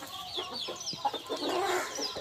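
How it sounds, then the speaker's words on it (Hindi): An old hen of about seven or eight years, of Pakistani bloodline, clucks repeatedly in a short, busy burst, with other fowl sounds mixed in and no speech. "बहुत ही वड्डी मुर्गी है"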